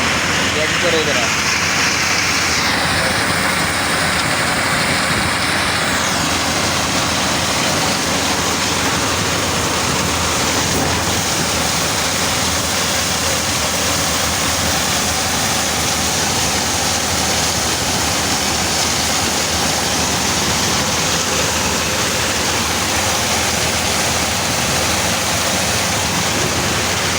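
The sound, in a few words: corn threshing machine running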